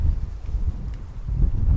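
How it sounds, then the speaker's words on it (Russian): Strong wind roars in low, steady gusts with a rustling edge, no voices present, during an evening woodcock hunt. "Ух, какой ветер поднялся"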